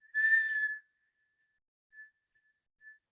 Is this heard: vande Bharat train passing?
no